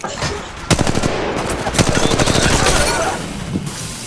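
Rapid automatic gunfire rings out in the mobile video game Apex Legends Mobile, loud and close. Sustained bursts of closely spaced shots run almost continuously across the clip.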